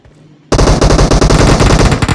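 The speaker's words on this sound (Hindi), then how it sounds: "और गोलियाँ चलना शुरू होती है" Rapid automatic gunfire from PUBG Mobile rattles out loud and close in a dense, continuous burst, starting suddenly after a short quiet moment.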